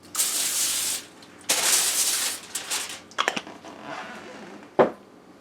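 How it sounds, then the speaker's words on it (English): Pam cooking spray hissing from an aerosol can onto sheets of foil, two long sustained bursts followed by several short spurts and a final quick puff, close and alone. "each one is going to get sprayed with some Pam"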